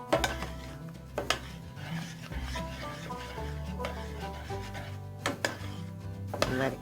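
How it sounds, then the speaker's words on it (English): A creamy potato dish being stirred in a pot, a soft scraping and sloshing with a few sharper knocks of the spoon against the pot. "Now I'm going to give that a good stir."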